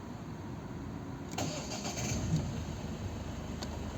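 A 2011 Volvo V50 facelift with a 1.6 HDI diesel and 219,000 km on it cranks over and catches about a second in, then settles into a steady close idle.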